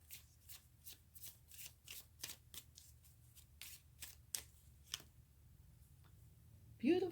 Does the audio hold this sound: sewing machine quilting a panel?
no